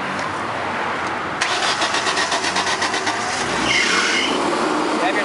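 A Powerboss TSS 8 sweeper engine cranks briefly, then catches and settles into a steady, loud mid-pitched running hum that rises slightly near the end.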